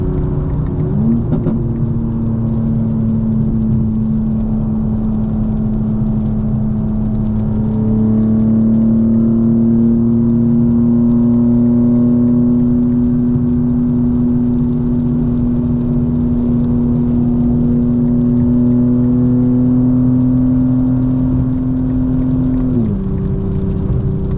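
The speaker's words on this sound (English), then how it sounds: "The light rain, engine noises." A car engine hums and whirs steadily from inside the vehicle on a drive in Palm Beach, holding a constant pitch that drops away near the end, with a faint hiss of light rain behind it.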